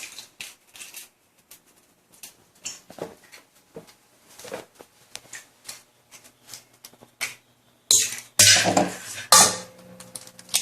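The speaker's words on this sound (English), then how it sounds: "So I'm going to separate the yolk from the white." Eggs cracked and separated over a bowl for a French sponge cake, with a long run of small taps, clicks and shell knocks, then louder clattering bumps against the bowl near the end.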